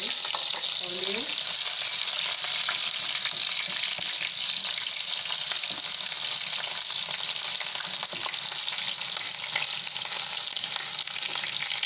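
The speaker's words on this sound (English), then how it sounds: "my oil is ready now, and add in my onions" Chopped onions sizzle steadily in hot oil for a tilapia fish stew, a constant bright hiss that fills the pan throughout, with a faint voice briefly near the start.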